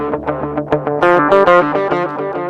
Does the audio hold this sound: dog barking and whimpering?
no